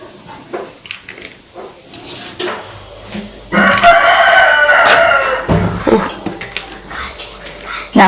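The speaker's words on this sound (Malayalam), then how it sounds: "കോഴി വീഡിയോ പിടിക്കുന്ന സമയത്ത് അപ്പം കിടന്ന് കൂകൽ തുടങ്ങും" A household rooster crows in a home setting, one long, strained crow carrying clearly over the midsection, with scattered clucks and background noise before and after.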